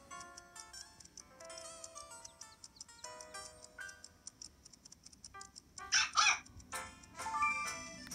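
Short, bright barks from a cartoon dog in the Nintendogs handheld game burst out late in the clip, over light chiming game music. No voices.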